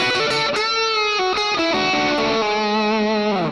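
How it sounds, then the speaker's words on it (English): An electric guitar on the back pickup plays sustained lead notes through heavy distortion, loud and close, with bends and held tones ringing thick with harmonics. "really gnarly notes played with a load of distortion"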